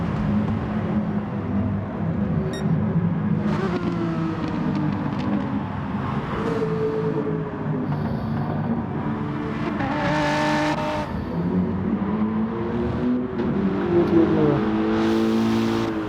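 Race cars lap Brands Hatch in a sim racing game, with engines revving hard through the gears, loud close passes and shifting pitch continuing throughout, and no talk over them.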